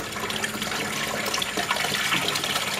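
Gurgling, splashy water draining through an aquaponics siphon from a 12-inch grow bed, close and continuous with bubbling pops and trickles throughout, no talk.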